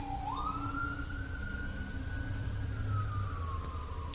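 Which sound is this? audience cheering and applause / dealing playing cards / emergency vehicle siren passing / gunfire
emergency vehicle siren passing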